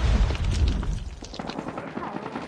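A frag grenade detonates in Call of Duty Mobile during a Hardpoint match, a heavy, close boom at the start that fades into rumbling gunfire and battle noise, with voices calling out over it.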